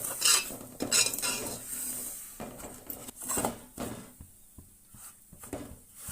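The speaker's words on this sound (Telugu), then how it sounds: "మనం బొంబాయి రవ్వ వేసుకుని వేయించుకోవాలండి లైట్ గోల్డెన్ కలర్ వచ్చేంత వరకు వేయించుకోవాలి" Bombay rava (semolina) roasts in a pan while a spoon scrapes and clinks against the metal in irregular bursts, over a faint dry rustle.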